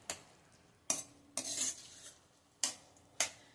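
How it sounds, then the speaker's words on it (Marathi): Onion being stirred in a steel kadhai over a medium gas flame, with sharp metallic scrapes and clinks of the spoon against the pan at irregular intervals, close and fairly quiet, with faint sizzling beneath. "स्टीलची कढई आहे, पटकन करपू शकतं म्हणून सतत हलवत आपण हा कांदा गुलाबीसर करून घ्यायचा आहे।"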